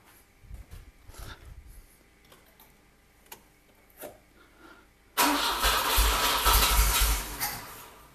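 A Volvo Amazon Kombi with an M41 engine: faint clicks and cranking at first, then the engine catches and runs loudly and a little unevenly, close by.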